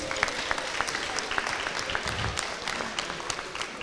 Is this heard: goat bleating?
no